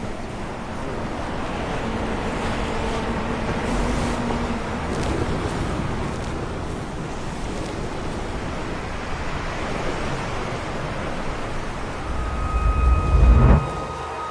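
Ocean surf rolls onto an Icelandic beach strewn with ice, a continuous washing roar mixed with gusty wind buffeting the microphone, swelling into a louder rumble near the end.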